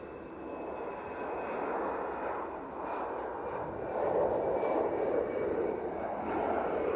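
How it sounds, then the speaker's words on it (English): Aer Lingus Airbus A330 jet on final approach into Manchester Airport, a steady, broad roar that swells gradually as it nears, heard from a distance with no talk. "On final, we do have the Aer Lingus A330 coming in from JFK"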